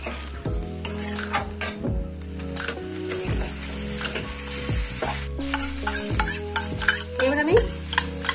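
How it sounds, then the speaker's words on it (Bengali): A spice paste being stir-fried in a pan for pumpkin curry: repeated rhythmic scraping strokes of a spatula against metal over a soft sizzle, close and fairly loud, with no talking. "গুলে রাখা মশলাটা দিয়ে দেব। এবার ভালো করে কষে নেব।"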